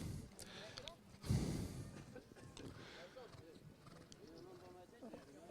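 Racehorses at a steeplechase being rounded up after a race, with hoof clops, snorts and whinnies mixed into busy outdoor crowd noise and overlapping voices, a louder burst rising briefly near the start.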